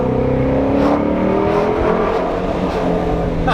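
A Ford Mustang GT350 on its factory exhaust in sport mode revs loudly from inside the cabin, a deep, rising and falling engine drone with strong layered harmonics and no talk.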